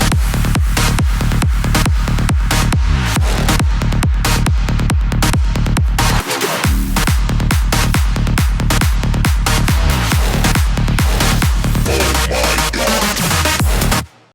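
The drop of a remix plays loud and dense, electronic dance music with a pounding steady kick and a brief breakdown midway.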